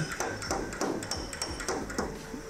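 A hammer knocks folded-over car body sheet metal flat, sharp metallic taps repeating at a quick, fairly even rhythm, close and clear.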